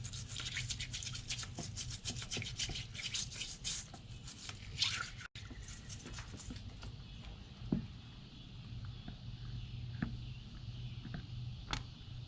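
A soft bristle brush scrubs a corroded Civil War revolver found while metal detecting, with quiet rapid rubbing strokes, faint and close, followed by sparse light taps and scrapes.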